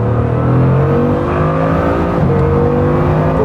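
A Bugatti Chiron Super Sport accelerates onto the Autobahn, its engine a loud, continuous, steadily climbing roar heard from close by throughout.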